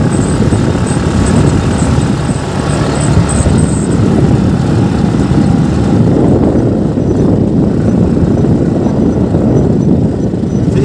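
A small rental motorbike runs around on desert sand, its engine a loud, continuous drone mixed with heavy wind rush, with no speech.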